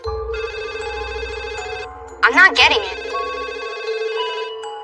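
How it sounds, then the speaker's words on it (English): A telephone rings steadily at a clear, moderate level, and a person speaks briefly over the ringing partway through. "So a few minutes later, the phone rang again."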